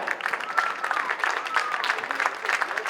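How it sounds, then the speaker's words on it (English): Steady applause from an audience at a polo club match, many hands clapping densely and continuously throughout, with no pauses. "let's give all 3 teams a round of applause now."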